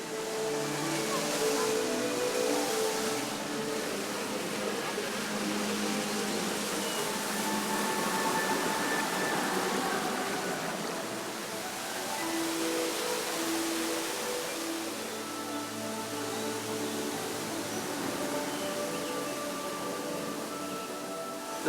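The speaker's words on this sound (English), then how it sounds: "The setup around here with all these fountains is unreal." Fountains and rock waterfalls at Tokyo DisneySea's Fantasy Springs splash in a steady, broad rushing wash of water throughout, with faint crowd murmur mixed in.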